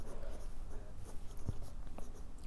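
Fountain pen writing with Scribo ink on Rhodia paper, a soft close scratching of nib strokes with faint rhythmic taps, quiet and steady throughout.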